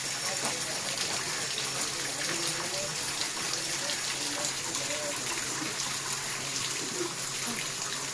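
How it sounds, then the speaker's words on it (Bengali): Water pours steadily from a tap in a continuous broadband rush, constant and close throughout, with faint background noise. "জল পড়তেই রয়েছে এই কল দিয়ে।"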